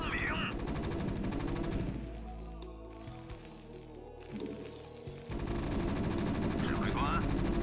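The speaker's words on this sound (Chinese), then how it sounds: "炮火轰鸣。" Gunfire and artillery from a military video game rumble and crackle in dense bursts, fading briefly mid-stretch before a loud barrage returns, with game voice lines spoken over the battle.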